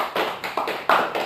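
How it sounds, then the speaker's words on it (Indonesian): A classroom group claps in short bursts, several loud rounds of hand applause starting and stopping in quick succession, close by. "Kita tepuk tangan untuk kita semua."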